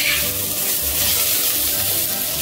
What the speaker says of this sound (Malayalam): ഇനി ഇതിലേക്ക് തക്കാളി ഇട്ട് കൊടുക്കാം.